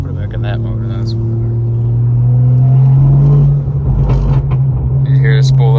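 A Stage 3 tuned BMW M240i turbo spools up as the engine pulls, a steady rising drone with deep rumble from inside the cabin, while people talk over it.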